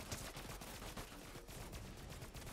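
Rapid gunfire from a Fortnite match crackles in a dense, steady barrage, fairly quiet and distant-sounding, with no talking over it.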